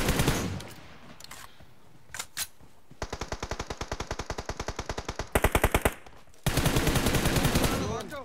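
Rapid automatic gunfire from PUBG Mobile gameplay, several close bursts of evenly spaced shots with a heavier sustained burst near the end, loud and dominant.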